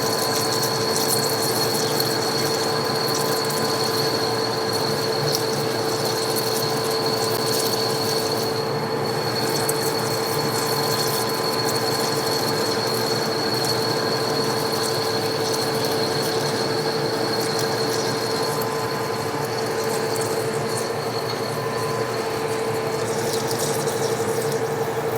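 Metal lathe turning a skid steer part with coolant running, a steady continuous whir with high-pitched tonal ringing throughout, alone with no talking.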